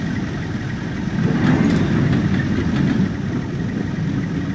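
A Class 42 Warship diesel locomotive in a video game idles with a steady low engine drone and a mild vibrating rumble, swelling slightly in the middle, with no voices.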